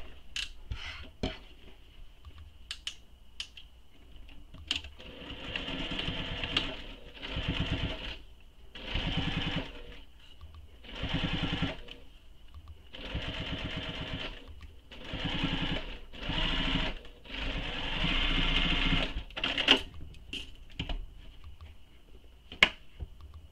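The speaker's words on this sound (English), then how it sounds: "we're going to top stitch our flap and our straight edge" Sewing machine top stitching the flap and straight edge of a fabric clutch, running in about eight short bursts separated by brief pauses, close and moderately loud, with small clicks between runs.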